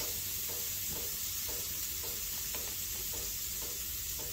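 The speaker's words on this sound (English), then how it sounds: "Sizzle." Steady sizzling of a huge piece of meat on a hot grill, a constant crackling hiss with faint rhythmic stirring or scraping beneath it, no voices.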